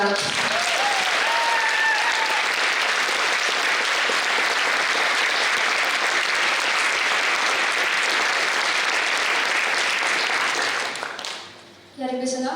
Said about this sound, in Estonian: teeme ühe suure aplausi kõigile, kes on meid täna ja proovides varem aidanud